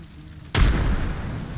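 A frag grenade in the video game Apex Legends goes off with a single sudden, loud blast after a quiet moment, followed by a deep rumbling decay.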